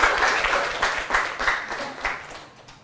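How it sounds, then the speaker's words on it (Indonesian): A classroom of students applauds a classmate in a short burst of clapping that fades toward the end. "Kasih aplaus buat Ayu."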